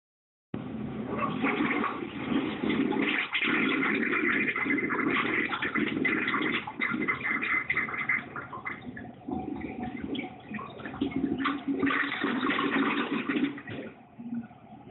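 A toilet flushing twice in quick succession, a long rushing, gurgling swirl of water that surges again partway through, loud and close with no voices over it.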